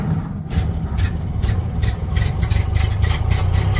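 A cold, flooded Model A Ford pickup engine cranks and tries to start, with a steady low rumble and rapid repeated cranking pulses, close and fairly loud, without catching.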